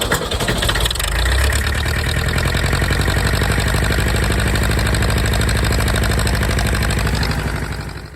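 An International tractor's diesel engine cranks and catches, then settles into a loud, steady clattering idle close by for several seconds before fading slightly.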